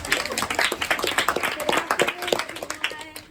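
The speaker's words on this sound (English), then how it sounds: "Give me another round of applause." A small audience at a community safety meeting in a conference room claps in a loose, uneven burst of distinct hand claps, fairly close and moderately loud, with voices mixed in.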